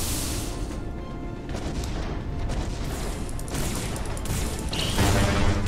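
Missiles fired from a mech striking an enemy in the M.A.S.S. Builder game, with a rapid barrage of loud explosions and crashing impacts over continuous rumbling, growing heavier toward the end.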